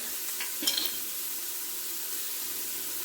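Vegetables sautéing in an Instant Pot give off a steady, hissing sizzle, with a brief stir or clink partway through and no talk.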